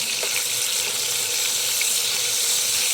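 Fish frying in a pan, a bright continuous hiss of hot oil at steady loudness, close up, with faint ticks of spattering and no voices.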